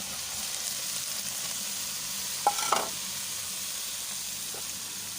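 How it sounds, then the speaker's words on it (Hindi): Diced potatoes frying in a hot pan for aloo gobhi, a steady close sizzle with a couple of brief clinks and scrapes partway through, no talking. "बस ये मैं इसके अंदर आलू डाल दूँगी।"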